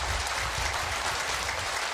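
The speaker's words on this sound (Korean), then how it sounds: "여러분 큰 박수 한번 주십시오." A large audience claps at a Buddhist dharma assembly in Bongeunsa temple after a monk's sermon: a thick, even wash of many hands, steady and sustained for the whole stretch, with no voices on top.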